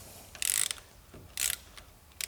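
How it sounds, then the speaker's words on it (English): A ratchet with a 14mm socket tightens a pressure washer nozzle tip, giving two distinct bursts of close clicking separated by a pause, with a third short burst beginning at the end. "we want to grab our 14mm socket, insert it. We want to torque it"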